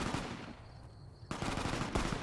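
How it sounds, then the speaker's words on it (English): Automatic weapon fire in the video game Fallout New Vegas, bursts of rapid shots that drop away briefly and then resume louder and dense, continuing to the end. "you're standing out here as gunfire is going on 24/7"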